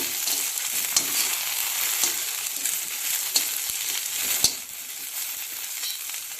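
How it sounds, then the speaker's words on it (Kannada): Okra frying in a pan, a steady bright sizzle of hot oil with occasional soft scrapes and taps of stirring, close and continuous. "ಬೆಂಡೆಕಾಯಿ ನೋಡ್ರಿ, ಚಲೋತ್ನಾಗಿ ಕೆಂಪಾಗುವವರೆಗೆ ಚಲೋತ್ನಾಗಿ ಹುರ್ಕೋಬೇಕು."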